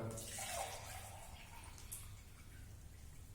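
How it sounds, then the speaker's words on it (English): Water poured back into a glass beaker during a classroom science demonstration, a soft trickling splash with a few faint drips, quiet and close, with no talking. "I am putting back some of the water"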